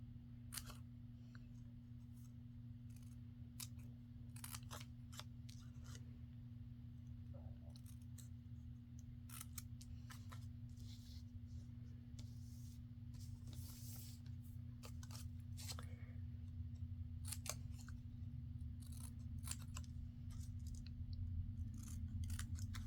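Scissors cut tails into folded paper strip embellishments with scattered, faint, close snips and crisp cutting strokes over a steady low background hum.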